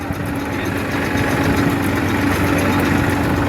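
A tractor engine drones at idle on a farm, a continuous low rumble with a constant hum throughout, close by and fairly loud, no voices.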